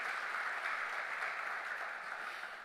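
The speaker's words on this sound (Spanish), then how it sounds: "Démosle un fuerte aplauso al Señor." Church congregation giving loud applause during a Sunday morning sermon, a steady, dense wash of clapping heard alone at moderate distance.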